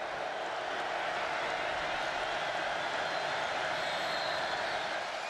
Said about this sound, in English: Well, the crowd got loud